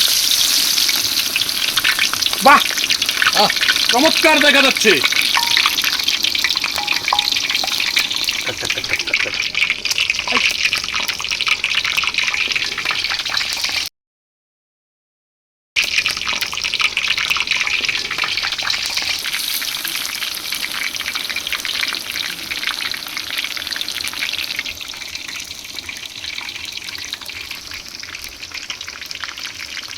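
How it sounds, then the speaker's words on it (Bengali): Dragon fruit flower fritters frying in oil in a village wok, a steady close sizzle running throughout with scraping stirs early on and a brief gap midway, while a voice briefly remarks over it. "আমার জীবনের প্রথম ড্রাগন ফুলের বড়া বানাচ্ছি। এখন আমি দিয়ে দিলাম। হ্যাঁ কড়াইতে ছেড়ে দাও।"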